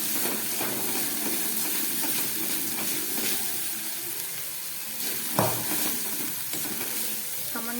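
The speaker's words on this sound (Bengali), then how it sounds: "মশলাটাকে আমি অনেকক্ষণ ধরে গ্যাস কম করে কষিয়ে নিলাম।" Spice masala frying and being stirred in a pan on low gas with salt, for a Bengali jackfruit kofta curry: a steady close sizzle and hiss, with occasional spoon scrapes and clinks against the pan.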